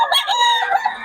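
A gamefowl rooster crows once at close range at a farm sale, a loud drawn-out call lasting about a second, with no talk.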